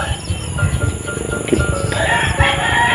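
A rooster crows nearby over a constant buzz of insects, with faint voices in the background.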